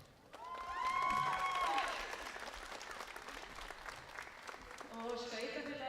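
Applause from the audience at a youth under-16 girls' ice hockey tournament rink, a moderate steady round of clapping swelling early then continuing, with announcer speech and other voices mixed in.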